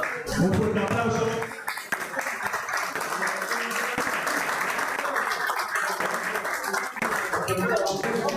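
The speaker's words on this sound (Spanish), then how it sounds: "Un fuerte aplauso" Loud, sustained applause from a crowd at an underwater spearfishing club championship in Galicia, with a voice speaking over the clapping throughout.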